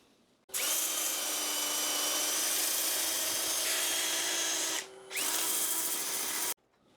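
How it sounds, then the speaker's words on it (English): A spinning lathe whines steadily as sandpaper rubs the turning cedar wood, pausing briefly once before resuming, then cutting off abruptly. "Ready for a bit of sanding."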